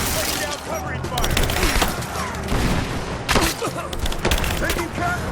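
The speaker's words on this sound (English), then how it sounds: "Laying down covering fire!" Rapid crackling gunfire and impacts during combat in Rise of the Tomb Raider, a busy, chaotic volley of shots with splintering hits and occasional heavier bangs, fairly close, with voices shouting faintly underneath.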